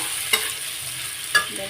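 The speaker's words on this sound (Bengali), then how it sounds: "তো আলু দিয়ে মশলাটা কষিয়ে নিচ্ছি বন্ধুরা" Potatoes being stirred and fried with spice paste in a pan, a soft steady sizzle under two sharp scraping strokes of a spoon against the pan, close and fairly quiet, with no voices.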